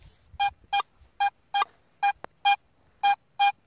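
Metal detector signal tone over a buried target while hunting at night, heard as eight short, evenly spaced beeps of a steady pitched tone, loud and clear with no talking.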